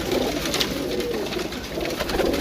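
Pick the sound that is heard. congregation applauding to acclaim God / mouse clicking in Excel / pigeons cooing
pigeons cooing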